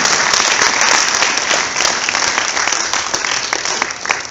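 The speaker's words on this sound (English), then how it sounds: "Give her a huge round of applause" Loud, dense audience applause at an after-prom event, sustained throughout and easing slightly toward the end, with a few whoops or voices mixed in.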